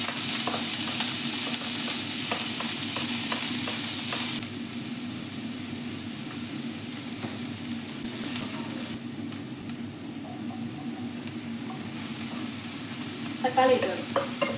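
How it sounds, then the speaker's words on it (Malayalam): Cumin seeds spluttering and frying in hot oil with ginger, garlic, green chili and ginger-garlic paste, a steady loud sizzle with intermittent pops and stirring clatter, growing slightly calmer partway through. "ഇത് നമുക്ക് ജീരകം പൊട്ടിക്കണം"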